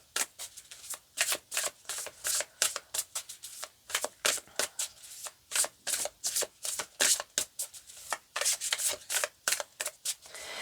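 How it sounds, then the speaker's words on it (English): Tarot cards riffled and shuffled in a close, quiet room, a rapid series of crisp flicking bursts repeating in an irregular rhythm with short pauses between. "let's pull out a few tarot cards here"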